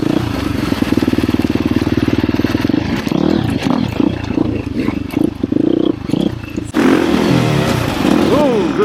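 A KTM 350 XCF Factory Edition four-stroke dirt bike rides singletrack trail on a cold morning, its engine revving loud and close with rapid throttle blips and shifting pitch, and a voice briefly breaks in.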